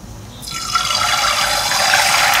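Soup of ginger-infused oil for ginger wine chicken mee sua boiling in a pot, a steady bubbling, hissing liquid sound that swells in after a short quiet start and continues close and fairly loud, with no talk.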